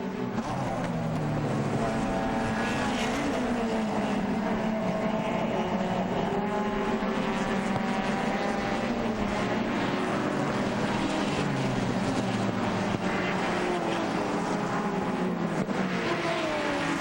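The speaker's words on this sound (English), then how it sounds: "that high-pitched Inline 6 whine, it is a thing of beauty" A high-pitched inline-six engine whine from an E Production race car driven by Ken Kennard at Mid-Ohio during the 2004 SCCA Runoffs, sustained and loud with rising and falling harmonic tones throughout.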